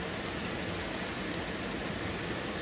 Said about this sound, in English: Getting a nice rain.